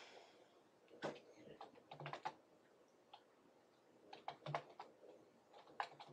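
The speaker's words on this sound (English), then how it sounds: "me just being silent typing in the answers" Quiet computer keyboard typing in irregular bursts of soft, close clicks with pauses between, no voices.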